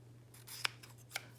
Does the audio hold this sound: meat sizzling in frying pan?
no